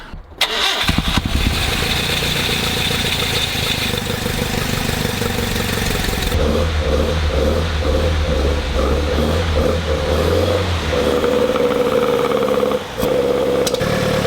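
Hillman Hunter GLS engine fitted with twin Weber DCOE carburettors cranks, catches and fires, then runs with loud revving and a steady rough idle, close up throughout.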